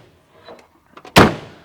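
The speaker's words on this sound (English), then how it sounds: "let me close the doors here" Doors of a 1994 GMC Suburban are swung shut, with soft handling clicks and rattles leading into one loud, close, solid slam that rings briefly and fades.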